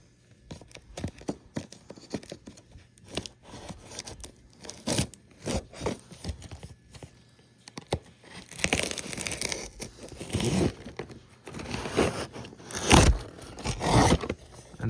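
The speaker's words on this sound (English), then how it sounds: "We're going to be using my trusty safety cutter." A safety cutter slices through a cardboard box with scraping, tearing strokes in irregular bursts, close by, followed by crinkling as the flaps and packing are pulled apart.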